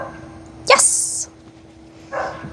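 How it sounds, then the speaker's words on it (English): A neighbor's dog barks outdoors at a distance, one sharp bark followed by a fainter second bark about a second later, over a quiet background. "One of the neighbor's dogs barking."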